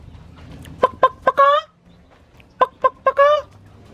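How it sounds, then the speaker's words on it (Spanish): Chickens cluck nearby in two short bursts, each a quick run of three or four sharp clucks ending in a drawn-out call, separated by a quiet pause. "aquí hay gallinas para que vengan"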